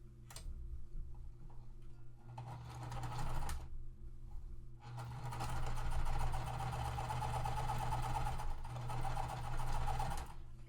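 A sewing machine chain-stitching cotton fabric pieces, running in rapid ticking bursts: a short stitch run, a pause, another brief run, then a longer steady whir, close and clear without talk.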